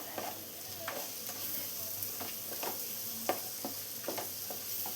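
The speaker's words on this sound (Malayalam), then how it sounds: "എല്ലാം കൂടെ ഒരു 2 മിനിറ്റ്സ് ഒന്ന് വഴറ്റിയെടുക്കാം." Salted spices sauté gently in a pan, a soft low sizzle broken by repeated spoon stirs and scrapes at an even pace, fairly quiet and close.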